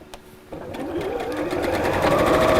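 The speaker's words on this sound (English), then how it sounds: "sewing the base in perfectly circularly" A sewing machine stitches the circular base of a fabric gift bag, starting after a brief pause and then running as a steady, close whirring hum that builds slightly, with no talking.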